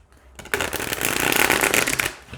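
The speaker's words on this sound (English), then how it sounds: "Let's see how it shuffles." A deck of oracle cards is shuffled by hand, one brisk riffling burst of papery flutter lasting about two seconds, close and fairly loud.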